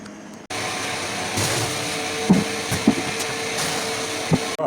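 A steam-water boiler heating for honey mash distillation switches on with a sudden jump into a steady, loud whooshing hum, with a few brief knocks and clicks over the constant roar.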